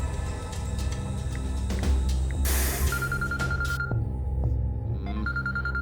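A phone rings during a tense scene, a faint electronic tone repeating in short bursts beneath music and other sounds.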